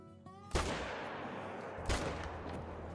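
Two loud M1 rifle shots in a hunting video game, sharp cracks about a second and a half apart, each followed by a rolling echo that fades slowly.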